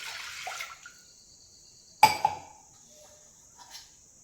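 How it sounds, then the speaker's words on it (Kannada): A glass of water poured over washed chana dal and moong dal for a wedding-style sambar, heard as short, fairly quiet splashing bursts with gaps of near silence between them. "ಹೀಗೆ ಒಂದು ಗ್ಲಾಸ್ ನೀರು ಹಾಕ್ತಾಯಿದ್ದೀನಿ."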